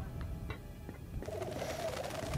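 Birds coo in the Uncharted 3 video game, giving soft, low, repeated coos that sound faint and somewhat distant. Light mechanical clicks sit in the quiet background, and no one speaks.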